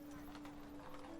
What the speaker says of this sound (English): And another horse.